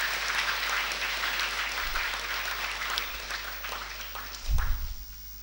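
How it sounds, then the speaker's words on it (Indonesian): Audience in a hall applauding at a university graduation announcement, continuous dense clapping that fades slightly toward the end, with a couple of low thumps. "tepuk tangan dulu buat kalian semua"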